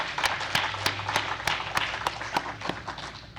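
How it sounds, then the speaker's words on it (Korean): Church congregation applauding during a worship service, a steady wash of many hands clapping with sharper individual claps punctuating it, moderately loud and continuous throughout without talk. "하나님께 더 큰 박수로 영광을 올리겠습니다."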